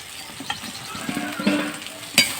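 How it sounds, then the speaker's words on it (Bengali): Fried soybean chunks and potato are tipped into a pan of spiced masala for a soybean curry, giving a steady sizzle with stirring scrapes and a sharp metallic clank near the end. "ভাজা করে রেখেছিলাম সেই সয়াবিন আর আলুটা দিয়ে দেবো"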